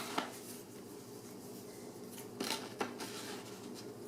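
Scissors snip quietly, close by, trimming small lines off a paper pattern for a wooden cat, with a few distinct cuts against a low background.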